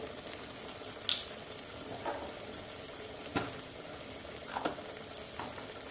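Turmeric and chili powder frying in ghee in a pan for cauliflower biryani, a steady close sizzle with a few brief stirring scrapes and clinks.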